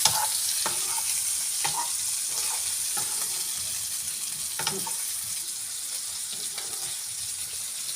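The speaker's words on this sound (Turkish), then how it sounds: "köftelerimi bırakıyorum içine" Meatballs go into a hot, sizzling pot for a sour Turkish köfte stew. A steady bright frying hiss runs throughout, broken by a few soft plops and splashes as each one drops in.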